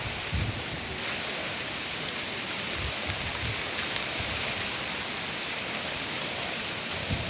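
Dense, continuous hiss of heavy rain pours steadily, with a rhythmic insect chirping faintly layered on top.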